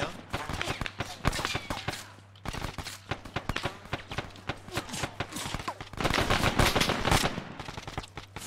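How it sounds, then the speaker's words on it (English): In a first-person close-quarters shooter game, a rapid, steady string of loud gunshots fires in bursts throughout, heaviest and densest toward the end, with a brief lull in the middle. "shot a guy over my friend's head"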